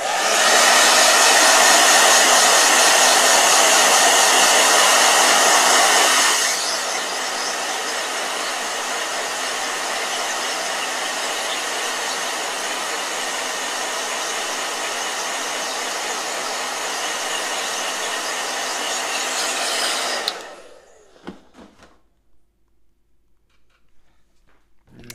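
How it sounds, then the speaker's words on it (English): A blow dryer runs loud and steady, with a stronger burst over the first six seconds, then settles at a slightly lower level before switching off near the twentieth second, leaving quiet handling noises. "Blow dryer."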